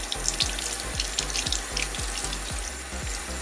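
Warm water running from a tap into a sink, a steady close splashing hiss with a regular low thumping pulse underneath, no voices.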